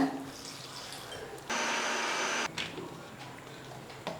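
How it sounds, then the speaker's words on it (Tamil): A kitchen mixer grinder runs for about a second as mint chutney with water is blended for pani puri, a loud, steady whirring burst that cuts in and stops abruptly, with quiet room noise before and after. "இது கூட நம்ம தண்ணி சேர்த்து நல்லா அரைச்சிடலாங்க"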